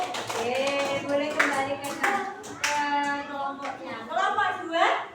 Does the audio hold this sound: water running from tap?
no